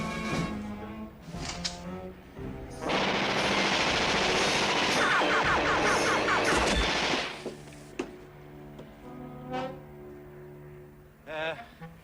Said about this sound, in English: Always test your guns before you take off.